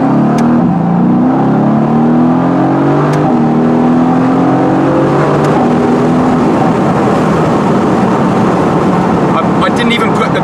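Mercedes-AMG GT S launching hard under launch control, engine roaring loud and close as the revs climb through the gears while the rear wheels slip, a continuous strong rising drone with some voice underneath.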